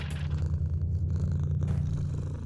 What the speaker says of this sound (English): little Jonesy's purring